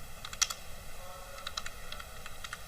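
Someone types a command on a computer keyboard, giving soft, close clicking keystrokes in small irregular bursts over a faint steady hum, with no speech.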